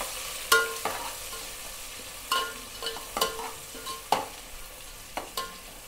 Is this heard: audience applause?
no